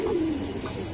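A racing pigeon coos once in a soft, throaty call, close and clear against a faint background, with no talk.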